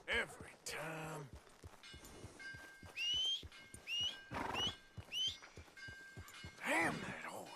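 Horse in the Red Dead Redemption video game whinnies and neighs in several sharp bursts over hoof clatter, mixed with game whistles and sound effects while someone talks throughout.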